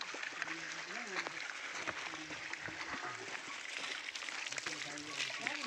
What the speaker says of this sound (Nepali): पानी बहुत ठुलो आउँछ